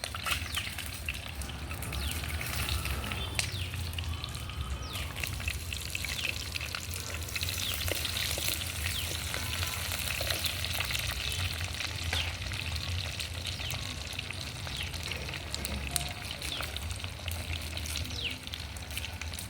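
Mustard seeds, cumin, urad dal, chana dal and dried chillies frying in hot oil give a dense, continuous crackling sizzle, close and loud, with no voices.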